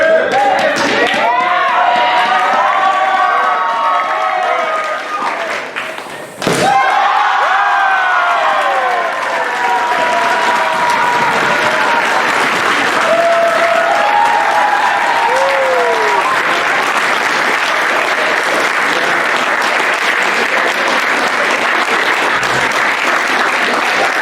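Loud, sustained applause fills a debate hall after a speaker's closing argument at an academic culture debate. The clapping holds steady, with crowd murmur and voices mixed in, and it briefly dips partway through before swelling again.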